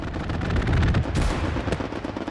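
Aircraft strafing-run gunfire in the video game Hell Let Loose, a dense continuous roar of rapid shots with a louder burst midway, heavy and close, no talk.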